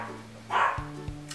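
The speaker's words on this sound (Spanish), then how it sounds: "Qué momento tan oportuno para que timbren a la puerta y mi perro se ponga a ladrar" A pet dog indoors barking after the doorbell rings at home, a single sharp bark followed by a couple of short low thumps, close and moderately loud.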